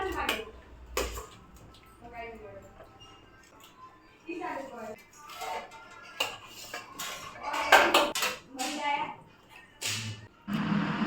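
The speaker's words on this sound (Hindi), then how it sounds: "उसी वाले गुलाब जामुन को मैं प्लेट में निकाल रही हूँ" A spoon lifts syrup-soaked gulab jamun out of sugar syrup onto a plate, with close, irregular clinks and scrapes of metal against dishware while someone talks intermittently.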